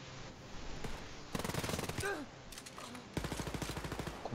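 Bursts of rapid automatic gunfire in the co-op shooter game Wolfenstein Youngblood, two dense rattling volleys separated by a quieter gap, fairly close and loud over background game ambience.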